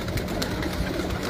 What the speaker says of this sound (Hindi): ये देखें जी ये उड़े हुए कबूतर हैं जेठ के